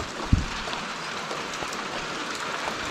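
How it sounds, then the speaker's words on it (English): Steady rain falls outside an RV on a hot day, a close, even hiss of drops on surfaces with one sharp knock near the start and no voices. "It is still like 90 degrees outside and it's raining."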